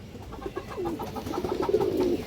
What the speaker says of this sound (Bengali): কোনো ব্লাড লাইনের একটা মুসলদম নর কবুতর মাশাআল্লাহ, অনেক সুন্দর একটা কবুতর